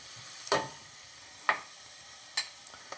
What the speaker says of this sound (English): As the garlic starts to pick up some color and starts to jump around in the hot oil